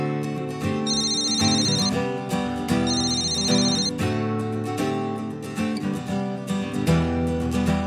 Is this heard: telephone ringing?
yes